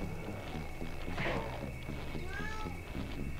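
A cat gives a short meow amid a busy background of game sounds, with a faint voice present.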